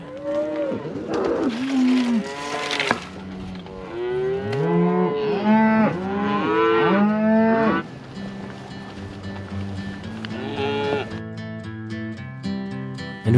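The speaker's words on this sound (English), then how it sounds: "with the cows arriving at the corral" Cattle on a mountain cattle drive arriving at a corral low and moo repeatedly, several loud overlapping calls from nearby animals, with background clatter and a faint tone near the end.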